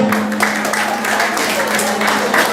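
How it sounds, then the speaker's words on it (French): Audience at a cultural day quiz event applauding a team, continuous close applause with a faint steady hum underneath. "Merci de les applaudir."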